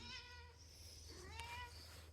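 A cat meows softly in a room, a couple of faint drawn-out calls over a low steady hum, with no talking.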